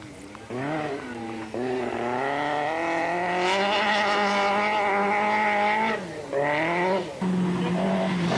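A 1985 Acropolis Rally car, apparently a Nissan, drives a rough boulder-strewn mountain road in Greece. The engine snarls loud and close, rising and falling through gear changes, and a voice is faintly present beneath it.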